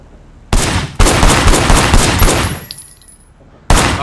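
Gunfire in the open-world action game Sleeping Dogs, with a loud sustained burst of shots lasting about two seconds that fades, then another sharp burst starts at the end.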